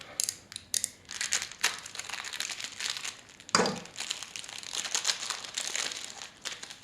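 Figurine packaging is opened by hand, with close, crisp crinkling and crumpling of plastic and paper in irregular bursts, one louder rip partway through.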